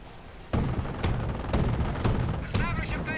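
Rapid small-arms gunfire rattles through a Company of Heroes battle, a steady run of sharp repeated shots that keeps going throughout.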